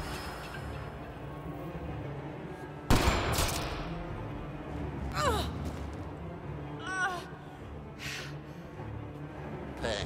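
A single sharp sniper shot rings out against Sloan in Mass Effect Andromeda, loud and sudden over steady game ambience, followed by a few fainter bursts and clattering effects.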